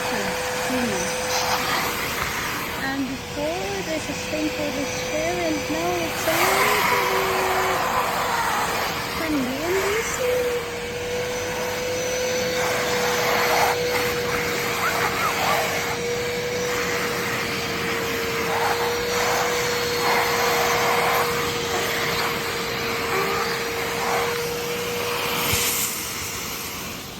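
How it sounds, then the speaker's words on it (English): A vacuum cleaner runs close and steady for the whole stretch while cleaning stains from a chair, its motor holding a constant droning whine with a brief voice-like warble early on. "It's a vacuum cleaner."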